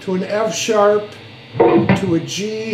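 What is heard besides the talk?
No distinct noise like a dog, phone or traffic.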